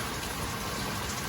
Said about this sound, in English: It's cold and rainy.